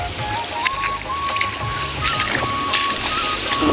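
Floodwater from heavy rain pours across a farm field as a steady broad rush of flowing water, continuous and close, with a faint whine and no clear talk.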